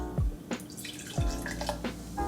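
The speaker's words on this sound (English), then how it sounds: "I'm going to pour a small amount of ginger beer to start our effervescence." Ginger beer pouring into a chilled highball glass during cocktail making, with two short splashing pours and fizzy, crackling effervescence between them, close and fairly quiet.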